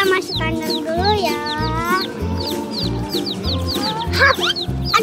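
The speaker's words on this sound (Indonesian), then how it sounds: "Yuk ambil lagi ayamnya. Ambil bang. Ayo ayam masuk kandang dulu ya." Chickens cluck and squawk loudly as they are caught and put into a coop, with frequent bird calls over a steady rhythmic beat and children's voices close by.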